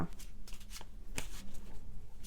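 Tarot cards are shuffled close by in a soft, continuous papery riffle of quick flicks and slides, quiet and without talk.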